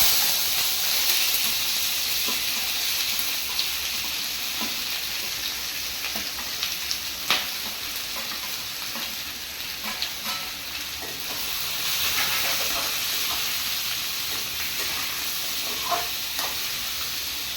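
Whole spices sizzle and hiss in hot oil in a wok, a steady frying crackle with scattered pops running throughout, close and fairly loud with no talking.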